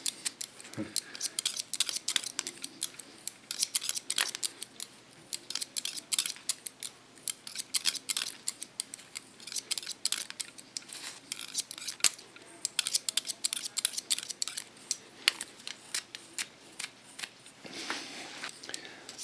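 Scissors snip rapidly through a man's hair during a haircut, crisp close clicks in quick irregular bursts with brief pauses between runs.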